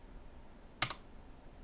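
A short burst of computer keyboard keystrokes, two or three quick clicks close together, sits alone against a quiet background.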